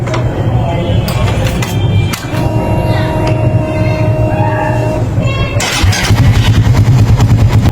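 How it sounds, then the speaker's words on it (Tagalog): A Suzuki Raider 150 Fi motorcycle engine cranks, starts and idles with a steady rumble while the coolant circulates, loud and close, with a brief stumble before the idle settles and a voice speaking over it. "I-start natin para mag-circulate yung coolant."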